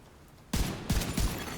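Video game gunfire: after a quiet lead-in, three heavy close shots or short bursts land in quick succession, each a loud booming crack.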